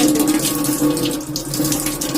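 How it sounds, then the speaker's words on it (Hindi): Forceful water gushes from a household tap in an Indian home kitchen during a busy morning, a loud, steady close-up splashing that runs alone for the whole moment. "ये देखिए, ये नल में सुबह पानी, शाम को पानी आता है, और इतना फोर्स में आता है"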